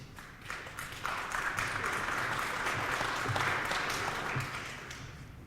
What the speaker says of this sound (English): May I ask you please to hold your applause until we've had all of the opening statements?